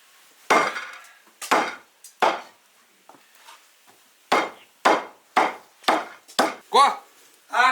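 A heavy cleaver chops through lamb ribs on a wooden board, giving sharp, loud, evenly spaced thwacks in two bursts with a short pause between them. A brief voice or squeak is heard near the end.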